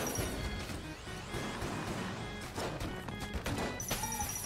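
The Luxon Cannon firing in Enter the Gungeon: dense crashing blasts and bright tonal zaps pile up continuously over busy game music and effects, with no voice.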